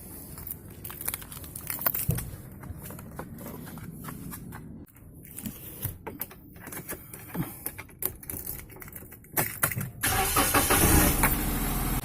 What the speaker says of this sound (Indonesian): Oke, sekarang kita hidupkan aja engine-nya, terus kita lihat kebocorannya guys ya.